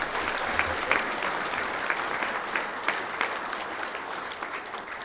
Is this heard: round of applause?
yes